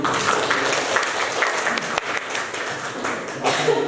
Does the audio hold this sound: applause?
yes